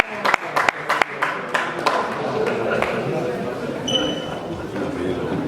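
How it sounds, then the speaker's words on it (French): Audience applause greets boxer Jesus Arevalo at a boxing weigh-in, a few sharp claps at first building into steady, fairly close clapping with crowd murmur. "Merci d'accueillir et d'applaudir comme il se doit Monsieur Jesus Arevalo."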